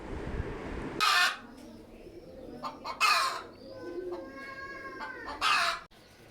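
Pigeons call nearby in several loud, separate bursts spaced a few seconds apart, with softer cooing and bird sounds in between over a quiet background.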